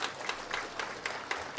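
An audience at a book fair event claps for parents who brought their children, a faint, brief patter of applause from a crowd.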